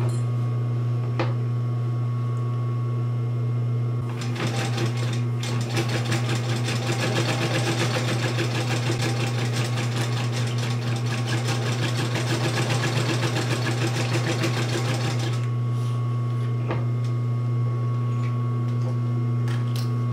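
A sewing machine stitches along the top and bottom edges of a clutch wallet, its steady rapid run lasting about ten seconds between quieter idle stretches, over a constant low motor hum.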